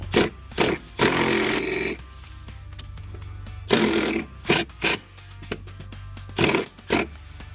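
A socket wrench with a 12-inch extension and 10 mm socket loosens a bolt on a C8 Corvette, giving loud, close bursts of rough mechanical rattling with shorter clicks and quiet gaps between them.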